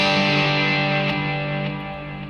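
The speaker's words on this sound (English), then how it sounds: "the tone I used for this track is this one, which has a little bit more delay and reverb" Two sustained electric guitar notes played through a Helix unit with delay and reverb, ringing bright and slightly distorted, then slowly fading as echoes trail off, with no talking.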